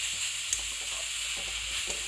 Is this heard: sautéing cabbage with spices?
yes